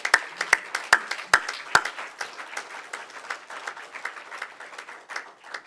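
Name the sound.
congregation applause in church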